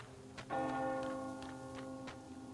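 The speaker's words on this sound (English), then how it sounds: "You hear that bell?" A bell in the Metro Exodus game world rings out in one clear resonant strike that hangs and slowly decays, with faint ticking clicks behind it.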